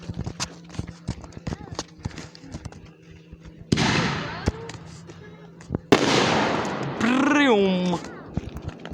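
Fireworks bursting outdoors, with sharp bangs and crackles scattered across the clip and two louder, longer blasts that trail off, while people talk and shout nearby.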